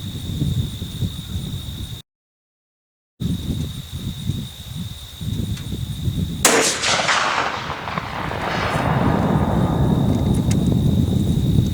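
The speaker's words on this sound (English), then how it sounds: "The Smith Wesson 500 Magnum." A Smith & Wesson 500 Magnum revolver fires a single sharp, loud shot outdoors midway through, with a long rolling echo afterward over quiet background rustle and a steady high tone.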